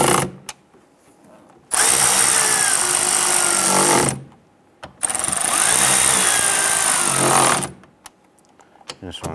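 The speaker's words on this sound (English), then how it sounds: "Let's go ahead and tighten those down." Two loud bursts of a power tool tightening the three side-mirror nuts on a 2005-2010 Chrysler 300, each running about two seconds with a short pause between and faint clicks around them.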